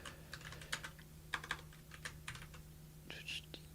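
Quiet typing on a computer keyboard, a run of irregular close key clicks and clatters with brief pauses, faint against a low steady hum.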